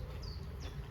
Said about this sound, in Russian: Это виды пчел, которые здесь летают.